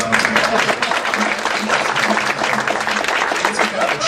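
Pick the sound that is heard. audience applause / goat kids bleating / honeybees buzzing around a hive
audience applause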